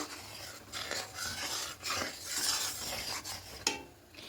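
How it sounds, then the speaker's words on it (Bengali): Katla fish gravy with milk and four green chillies coming to a boil in a pan, giving a steady rough bubbling and sizzling hiss with scraping stir-like bursts throughout, close and moderately loud. "এই বাটি ধোয়া জলটা চারটে কাঁচা লঙ্কা দিয়ে দেবো দিয়ে গ্রেভিটাকে একটু ফুটতে দেবো শুরু করে দিয়েছে"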